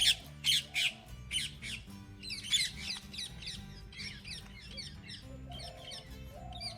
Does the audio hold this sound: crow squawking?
yes